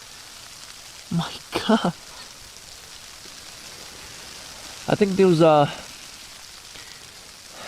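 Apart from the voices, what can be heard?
rain falling on a tarp overnight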